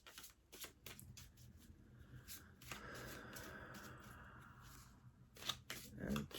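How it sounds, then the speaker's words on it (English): Tarot cards being shuffled during a reading, soft riffling and papery sliding that builds into a longer continuous rustle, quiet and close, ending with a few sharper handling clicks. "I'm going to go ahead and shuffle the cards"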